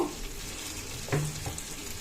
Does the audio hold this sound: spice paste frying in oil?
yes